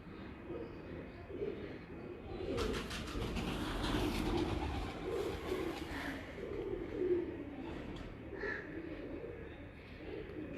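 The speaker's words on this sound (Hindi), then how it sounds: "ये एक कबूतर है उस्ताद मी अब्दुल रऊफ साहब के घर के लाल परी कबूतर" A Lal Pari breeder pigeon gives low, repeated coos in a yard, mixed with rustling, a clattering burst and brief higher chirps from other birds in the background.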